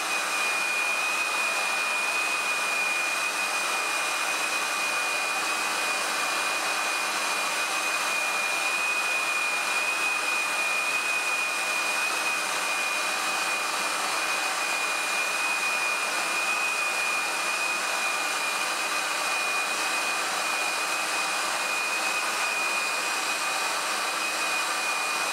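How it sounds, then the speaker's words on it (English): A heat gun blasts hot air onto a sheet of Perspex acrylic, a loud, steady whooshing roar with a thin whine that holds unchanged throughout. "I'll give you a simple demonstration just using the heat gun."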